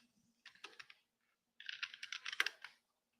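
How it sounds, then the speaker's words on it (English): Typing on a faulty computer keyboard: two quick bursts of close, crisp key clicks separated by a short pause, in an otherwise quiet room. "I'm on a keyboard that's all jacked up"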